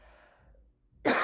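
A single loud, close cough bursts out near the end after a quiet, faintly breathy lull, with no talk around it.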